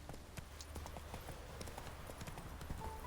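Roach the horse's hooves clip-clop in a quick, even gallop rhythm across the ground in The Witcher 3 game, close and continuous over a low ambient rumble.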